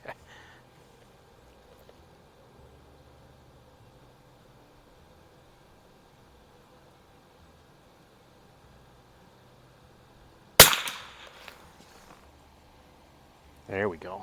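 Iron-sighted 1974 Remington 540X rifle fires Geco ammunition at a 50-yard target outdoors, with one loud, sharp shot after a long quiet stretch and the onset of another at the very end.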